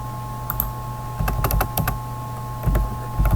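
Computer keyboard keys are typed in short bursts of clicks while a delay time in LED blinking code is edited, close and fairly crisp over a steady electrical hum, with no talking.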